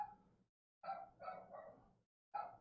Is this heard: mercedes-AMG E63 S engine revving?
no